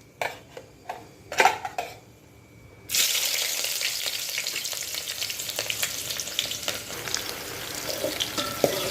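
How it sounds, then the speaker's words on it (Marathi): Two medium long-sliced onions hit hot oil for Maharashtrian masale bhat: a few pan clinks and taps, then a sudden loud, sustained frying hiss that stays close and steady with occasional stirring scrapes. "लांब कापलेला कांदा आहे दोन मिडियम घेतलेले आहे कांदे आपण तेलात टाकू"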